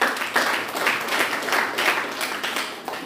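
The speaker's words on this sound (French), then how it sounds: "Acclamons pour elle." An indoor audience gives a short burst of applause at a talk, steady scattered clapping that rises and falls over a few seconds.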